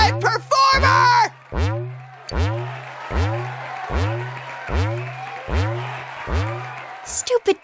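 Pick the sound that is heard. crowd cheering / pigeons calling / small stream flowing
crowd cheering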